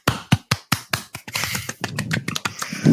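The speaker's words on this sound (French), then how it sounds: "On applaudit Thomas pour sa première" Several podcast hosts clap for a new co-host, a few separate sharp claps at first, then a denser patter of close, dry applause from a small group in a studio.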